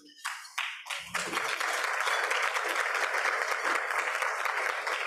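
Applause at a Rotary club meeting as a guest stands when introduced: a few scattered claps first, then the whole room joins in a sustained, even round of clapping.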